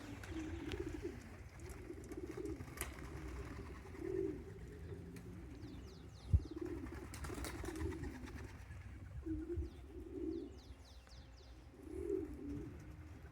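Young racing pigeons coo in a repeated, rolling rhythm during a 5 km homing training session, steady and fairly close, with faint bird chirps and a soft background hum.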